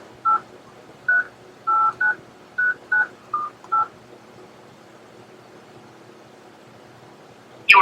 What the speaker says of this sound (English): Please enter your area code and phone number.